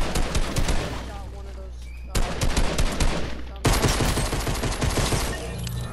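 Rapid bursts of video game gunfire rattle loudly in long automatic volleys, broken by a short pause, as a player fights an opponent who has picked up a gun.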